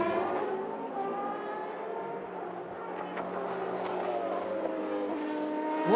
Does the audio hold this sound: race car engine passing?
yes